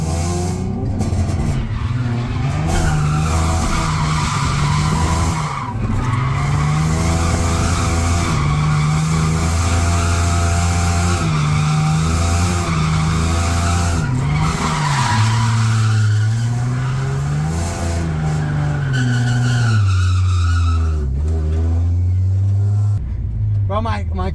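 Tires squeal loudly and continuously as a car drifts in tandem practice, the engine droning and rising and falling with each slide. People talk over the noise.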